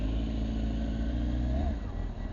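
A Kawasaki motorcycle, a Vulcan Hustler that gets 33 miles per gallon, idles and runs close by. It gives a loud, steady, low engine rumble, and the pitch rises slightly near the end.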